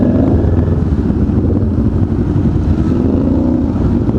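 Motorcycle engine with an aftermarket AR muffler, reportedly inline-three-like in character, a loud continuous low rumble close by in traffic with some wind buffeting and no talk over it.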